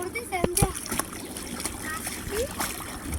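Children splash water while bathing on the steps of a pond at home, with irregular splashes and slaps of water close by and their voices chattering and calling over the splashing.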